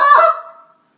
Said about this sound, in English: Cluck sounds like this.